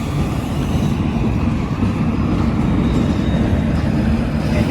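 A railway train rolls past with a heavy, continuous low rumble and rattle, loud and steady throughout with no talking.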